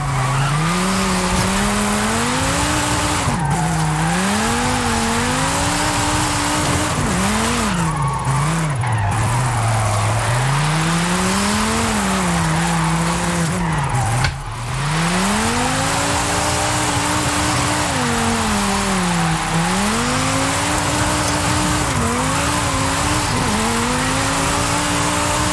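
A drift-tuned car in the racing game Forza Horizon 5 holds a long slide, its engine revving up and down over a constant squeal of tires for about half a minute, loud and steady with no voices.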